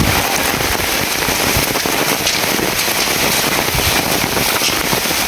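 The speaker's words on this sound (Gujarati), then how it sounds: "ચલો ગાઈ તમે આવી ગયા છીએ વરસાદમાં" Rain pours down in a village, a dense, loud, unbroken patter of drops striking surfaces with crackling spatters throughout and no talk.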